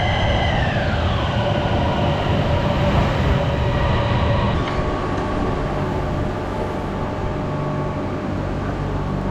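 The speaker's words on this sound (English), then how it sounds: "Another crowded train." A Bangkok Blue Line Metro train rumbles loudly nearby, with a steady roar of wheels and motors and falling electric whine tones as it runs, continuous and without talk.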